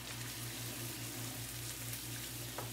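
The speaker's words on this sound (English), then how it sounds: "Now we throw our lentil, water and all." Cooked lentils and their cooking water pour into a pot with a soft, continuous watery splashing and sloshing, faint and close, with no voices.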